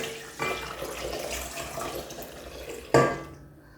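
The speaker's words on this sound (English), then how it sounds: "Now we're going to put some warm water in." Warm water runs steadily from a tap or is poured into a container of yeast up close, ending with a sharp clunk.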